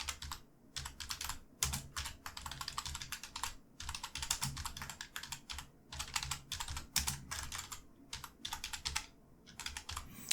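Fast typing on a computer keyboard, close and clear, with rapid clusters of key clicks broken by short pauses, no talking.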